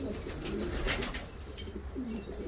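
Silver-tail pigeons give soft, low cooing calls amid a steady rustling background, with brief flutters of wings breaking through now and then.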